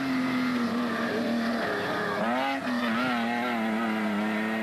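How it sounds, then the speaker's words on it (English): A Castrol Toyota Hilux 4-litre rally truck races past at the Sugarbelt 400, its engine note rising and shifting as it revs through gears, fairly distant over constant background noise. "With another Castrol Toyota Hilux 4-litre zooming into view."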